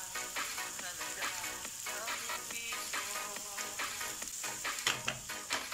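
Mushrooms fry in oil for an omelette with mushrooms and cheese, giving a steady, busy sizzle with crackling pops throughout, fairly quiet and close, with no talking.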